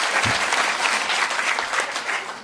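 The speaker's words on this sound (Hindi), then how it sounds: "Clap, everyone clap for yourself." An indoor audience at a Parkinson's support group gathering claps together, a dense burst of applause that stays steady and fairly loud for a couple of seconds before easing slightly.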